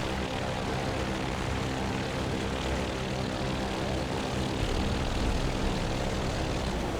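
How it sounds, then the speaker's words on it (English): Propeller engines of bombers from the 44th Bombardment Group on the Operation Tidal Wave raid against Romanian oil fields, a dense, unbroken heavy droning roar that stays loud and constant throughout. "21 bombers of the 44th Bombardment Group, led by Lieutenant Colonel James Posey, attack blue target Creditul Minia"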